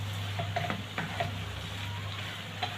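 Bell peppers stirred in a frying pan for chicken fajitas, a steady close sizzle with light scraping and clinking of the spoon against the pan.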